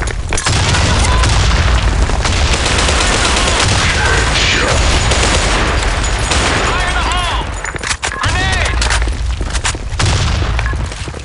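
Grenade blasts and rapid gunfire in the online shooter BlackShot, a dense, loud barrage of booms and automatic bursts that barely lets up, with shouted in-game voice callouts mixed through the chaos.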